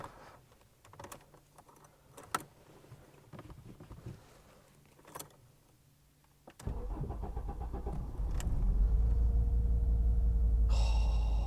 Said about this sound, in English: But I suppose we should now turn the key and get it fired up.